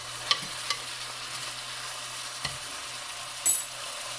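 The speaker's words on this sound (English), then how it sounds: "I will flip it and then oh yeah, getting a nice sear on the bottom of it." Pork loin sears in a hot pan, giving a faint, steady background sizzle with a few soft clinks and one brief louder clatter near the end, and no talking.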